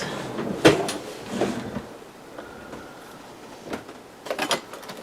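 A desk drawer slides and knocks a few times in a home office: several hollow thumps and rattles close by, separated by quiet gaps, with no talk.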